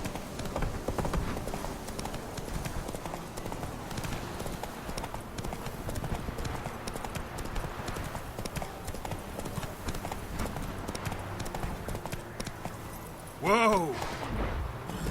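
Hooves of the horse Roach clip-clop steadily in The Witcher 3, an even, continuous beat under game ambience, with a loud whinny rising near the end and a voice calling to the horse.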